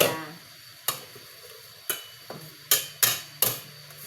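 Ginamos, a fermented shrimp paste, sautés in a pan with a soft sizzle beneath a series of about six sharp, close spatula knocks and scrapes at uneven intervals.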